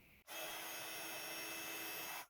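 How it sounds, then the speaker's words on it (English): A heat gun melts white embossing powder on purple cardstock, a steady, loud blowing roar with a faint motor whine that starts abruptly and runs unbroken for about two seconds before cutting off. "I'm going to heat emboss that with the white embossing powder"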